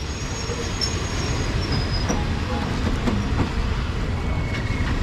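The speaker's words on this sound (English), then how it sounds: "Pretty long train." A long train rolls past on the Kwai River Death Railway, its wheels clacking steadily over the rails with faint squeals, loud and close throughout.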